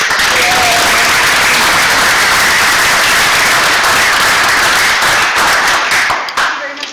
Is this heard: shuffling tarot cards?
no